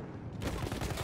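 A shotgun blasting in a video game, dense rapid firing bursting in after a brief quiet moment, moderately loud.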